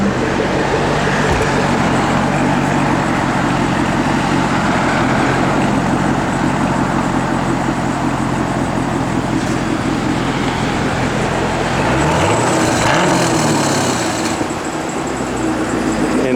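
A 2011 Chevrolet Camaro Callaway SC572 engine runs with a loud, steady low rumble close by, easing off near the end, while someone talks faintly under it.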